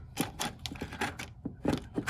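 A 3D-printed single-shaft shredder chews on a plastic bag, making irregular crinkling, clattering bursts at close range with uneven rhythm.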